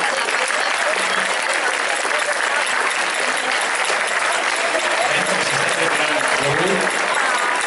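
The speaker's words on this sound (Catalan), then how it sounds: "un aplaudiment molt fort per al grup." Loud, sustained applause for a performing group fills the space as a large crowd claps continuously, with a few voices murmuring and calling out beneath it.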